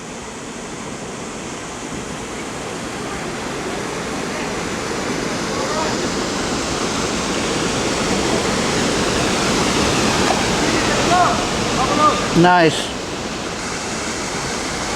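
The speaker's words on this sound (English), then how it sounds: "You can see the waterfalls further up here" Water from waterfalls pours down a rocky creek as a steady broadband rush that swells slightly over time, with a brief voice near the end.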